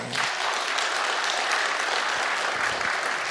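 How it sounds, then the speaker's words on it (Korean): Steady applause from a church congregation at a New Year thanksgiving service, dense and even clapping that fills the whole stretch without letting up. "박수 한번 쳐봐요."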